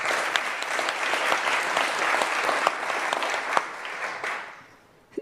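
An audience at a public debate on disability and equality claps steadily and densely, a warm sustained round of applause that thins out and fades over the last second.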